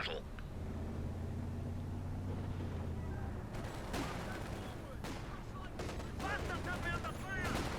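Machine gun and sniper fire in the strategy game Company of Heroes 2, near a base and a garrison: rattling gunfire bursts and sharp cracks over a low engine rumble, with a voice talking over the battle.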